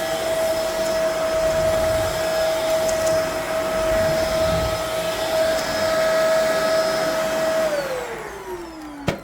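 A vacuum cleaner whines at a steady high pitch during drum kit maintenance, loud and close, then the motor tone drops and sputters as it breaks down near the end.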